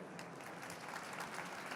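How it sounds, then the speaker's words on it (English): An audience at a climate communication panel event claps steadily, a dense even patter of applause that sounds somewhat distant and muffled. "So please give them another round of applause."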